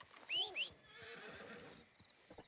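A horse in the Red Dead Redemption 2 video game lets out a short, shrill whinny near the start, followed by a few soft clip-clop hoofbeats at close range.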